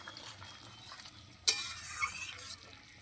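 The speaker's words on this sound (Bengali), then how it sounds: "এবার ঝোল নাড়াচাড়া করে দিচ্ছি।" Pangas fish curry gravy stirred in a pan after simmering under a lid, a faint bubbling hiss with one sudden clatter of the spoon or lid and a louder sizzle following it.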